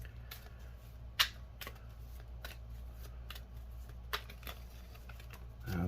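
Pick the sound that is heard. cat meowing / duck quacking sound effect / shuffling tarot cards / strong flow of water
shuffling tarot cards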